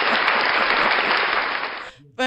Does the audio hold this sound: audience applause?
yes